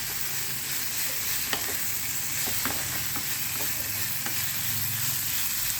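Tempering spices and tempering powder sizzle steadily in hot oil, a constant close hiss broken by a few sharp clicks of stirring over several seconds, with no talking.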